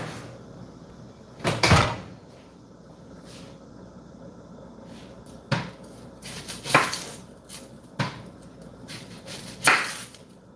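Blueberry biscuits go into a kitchen oven: a few scattered clunks and knocks of the oven door and tray spread across the stretch, moderately near against a quiet room.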